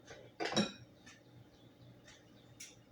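A small metal spoon clinks and scrapes against a dish while scooping crabmeat stuffing into halved morel mushrooms, one louder clink early, then several faint, sparse taps and scrapes close by, no talking.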